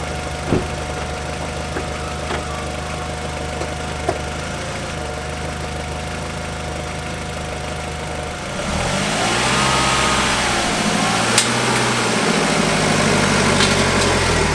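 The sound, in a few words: Audi TT engine starting and idling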